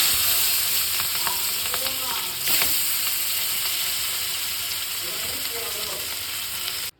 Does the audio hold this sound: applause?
no